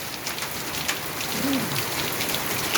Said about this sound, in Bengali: বৃষ্টির সঙ্গে আমাদের দেখুন এখানে বরফ বাড়ি হচ্ছে এই যে পাথর পড়ছে